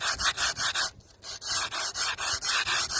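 A basic hand file rasping across a limestone sculpture in quick, even back-and-forth strokes, about a dozen close, loud passes with a brief pause near the middle.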